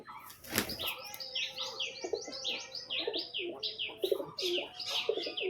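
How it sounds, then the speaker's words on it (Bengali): Three pigeons released outdoors, with a burst of wing flapping at the start followed by steady cooing and chirping from several birds, moderately close and continuous. "এখন বাইরে পায়রাগুলোকে ছেড়ে দিলাম, 3 পিস পায়রা ছাড়লাম"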